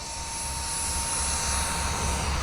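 A jet-powered FGFRC Aeroscout RC plane flies past with a steady, loud jet whine and a faint high tone, continuous and alone without voices.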